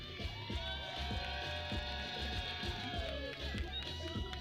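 A distant, lively crowd at a Marshall Madness competition cheers and whoops over loud pounding music with a steady beat, the shouting swelling in waves throughout.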